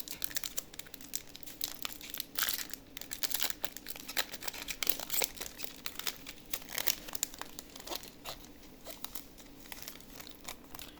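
A Yu-Gi-Oh booster pack's foil wrapper is torn and crinkled open close up, a long run of sharp crackling, rustling and tearing bursts with brief pauses, with no talking.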